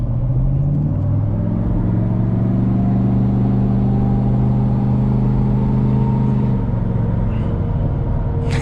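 A straight-piped 6.7 Powerstroke diesel truck on a 5-inch exhaust rumbles loud and close, its deep drone held steady, swelling slightly then easing off near the end.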